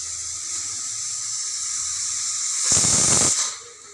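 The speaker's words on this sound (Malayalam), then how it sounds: "ആ നമ്മുടെ കുക്കർ വിസിലടിച്ചിട്ടുണ്ട്." A pressure cooker whistles on the stove while food cooks: a steady background hiss, then near the end a loud, sharp burst of escaping steam about half a second long that fades back to the hiss.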